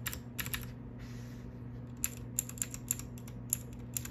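Typing on a small Ducky One 2 Mini keyboard fitted with White Pudding keycaps: clusters of close, crisp key clacks with a short pause, then scattered single keystrokes over a steady low hum.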